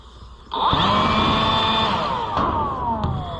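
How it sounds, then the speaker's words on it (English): A leaf blower starts abruptly and runs at a loud, steady whine outdoors while blowing debris underneath farm machinery, close to the listener, with brief dips in pitch. "Maybe I can take the leaf blower and just continuously peer pressure it out of there."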